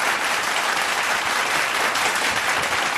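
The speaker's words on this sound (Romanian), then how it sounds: "Aplauze pentru trupa de dans AS" An audience at a children's talent contest in Bucharest applauds a dance group, a dense, even wash of clapping from many hands that carries on throughout without talk.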